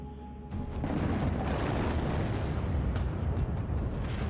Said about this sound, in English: 75 tons of ammonium nitrate explosive shatters the layer of sandstone covering the 15-foot-thick coal seam.